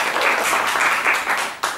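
Audience applause at a quiz contest during a James Bond fan event, honoring the second-place finisher; a small crowd claps steadily and fairly close for under two seconds.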